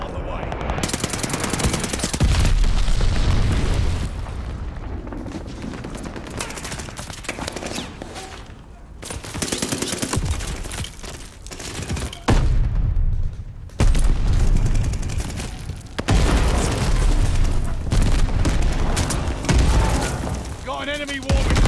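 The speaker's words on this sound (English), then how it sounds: "An enemy glide bomb on the way." Glide bomb explosions and heavy gunfire in Call of Duty: Vanguard form a dense, loud barrage of booms and rapid shots with brief lulls, mixed with voices.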